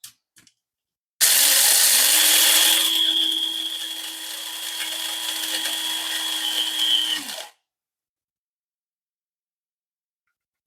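Electric grinder whirring through coffee beans to a coarse grind, a loud buzzing burst of about six seconds with a brief harsher start, then abrupt stop into silence.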